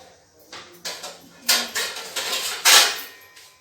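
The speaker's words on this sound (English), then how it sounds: "Now I am going to put this pan in this cooker" A metal pan being set into a cooker while baking a mushroom cake: a series of scraping, clattering metallic knocks and a creaky slide, fairly close, with a louder clank near the end.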